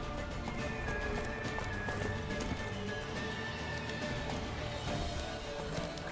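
Rapid hoofbeats of a galloping horse pound steadily throughout in The Witcher 3, with an occasional whinny, over a busy game soundscape and ambient music.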